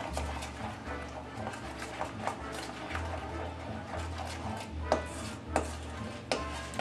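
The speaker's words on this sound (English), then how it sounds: "Give this a stir, a really good stir." Turkey salad with mayonnaise being stirred in a bowl, repeated soft thuds and clinks of the spoon against the dish in an uneven rhythm, fairly close, under a low steady hum.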